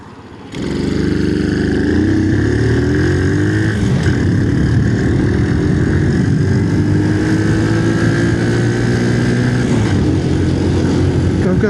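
A Honda C90 motorcycle engine, newly fitted with a fresh carburettor, starts up and runs loud and close, a steady buzzing drone with rising and falling revs across the whole stretch.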